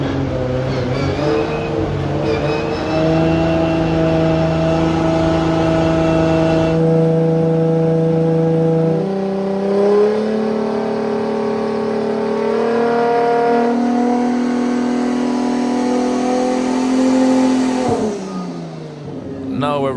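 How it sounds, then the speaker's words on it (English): A 2JZ-engined Nissan S14 race car revving hard on a dyno, a loud, sustained engine roar that climbs in pitch through several steps before dropping off near the end, close and dominant. "Now we're running the car in the dyno."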